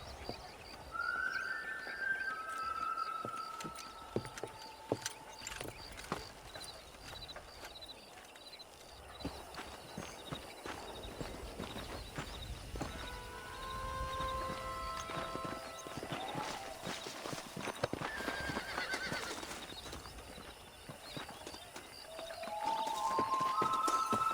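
Horse hooves clip-clop at a walking pace in the Red Dead Redemption video game on a cattle ranch, a steady rhythmic plodding under soft ambience, with occasional whinnies and bird calls scattered across the scene.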